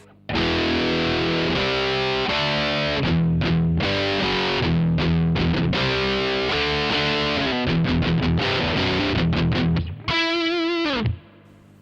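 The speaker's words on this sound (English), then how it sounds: "it gives you a really kind of cutting sound when you have all the distortion" Distorted electric guitar through a Boss DS-1 distortion pedal into a Marshall amp on its crunch channel, playing loud crunchy chords and riffs with choppy stops, ending in a sustained ringing chord.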